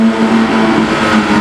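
A green Porsche GT3 Touring's engine gives a brief, loud, steady drone with a sustained tonal hum and no voices.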